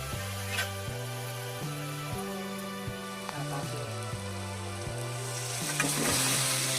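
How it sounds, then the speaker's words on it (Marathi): Fish cooks in a well-fried, deeply coloured masala, making a low, continuous sizzle beneath background music. "याच्यात आपण मासे टाकून घेऊ शिजायला"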